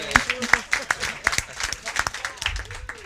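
Applause from an audience at a Hartford mayoral candidates forum: a short, sharp burst of scattered hand claps, fairly close, with a voice speaking through it.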